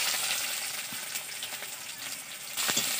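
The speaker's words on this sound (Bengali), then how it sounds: "এই লঙ্কা আর পেঁয়াজটা ভালো করে ভেজে নিতে হবে।" Chillies and sliced onions frying in oil for an egg curry give a continuous sizzling hiss, with a few soft stirring knocks and a brief louder flare near the end.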